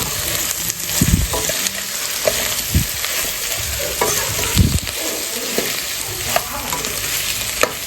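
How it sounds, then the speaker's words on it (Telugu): Okra pieces tossed with chili powder and salt sizzle steadily in a hot pan, with a spoon scraping and thumping against the metal in irregular strokes, close and fairly loud. "కారం, ఉప్పు అంతా బెండకాయ ముక్కలకు పట్టేలాగా కలిపేయండి."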